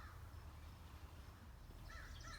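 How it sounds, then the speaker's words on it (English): A crow caws faintly in the distance toward the end, heard over a steady outdoor background rumble. "Got my friend the crow behind me."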